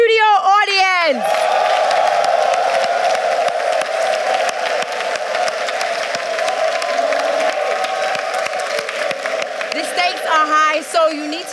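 A lively studio audience at a Nigerian TV game show cheers and applauds loudly and steadily, with whoops and shouts over the clapping, while a host's voice rises briefly at the start and end.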